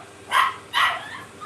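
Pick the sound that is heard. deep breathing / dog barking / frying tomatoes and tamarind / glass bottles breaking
dog barking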